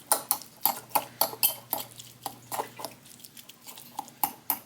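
Fork mashing canned tuna in a bowl, a run of about twenty sharp metal-on-bowl clicks and scrapes in an uneven quick rhythm, close and fairly loud, with no talk.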